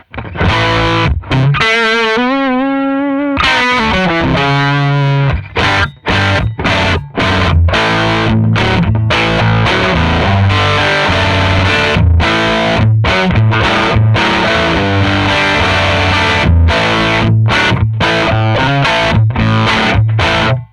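Heavily distorted electric guitar through a Mixwave Benson amp plugin with gain at 10 plays loud, chugging riffs with sharp rhythmic stops and a brief bending passage, continuing steadily throughout.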